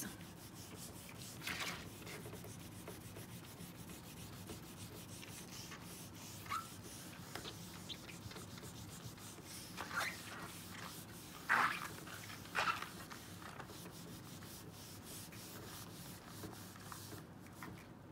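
Scrubbing scratches out of a vintage Pyrex glass bowl by hand: quiet, continuous rubbing and scraping with irregular strokes and a few slightly louder squeaky scrubs, close by and without talk.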